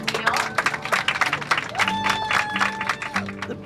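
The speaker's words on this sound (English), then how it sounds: "Give yourself a round of applause." A group claps in a room after an announcement about grades at a student program, a bright, uneven patter of applause with voices and some tonal sound mixed in.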